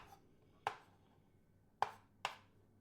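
Three sharp knife chops on a chopping board while preparing lasagne ingredients, irregularly spaced, close and crisp against a quiet room, with no talking.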